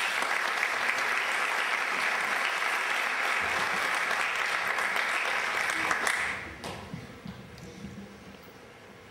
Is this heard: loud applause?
yes